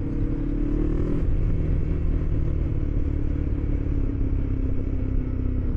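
A motorcycle rides along a damp, rough road, its engine droning steadily under heavy wind rumble, loud and continuous with a slight pitch rise early on, no voices.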